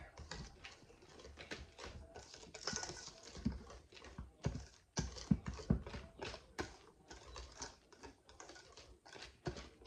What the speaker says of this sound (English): we're just going to give that a good little whisk until it's incorporated and nothing more